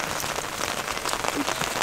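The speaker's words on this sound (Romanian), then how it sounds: "Chiar dacă plouă, chiar dacă e vreme rău" Rain pours steadily in the Retezat mountains, a dense, close patter of drops drumming on a surface with no pauses and no voices.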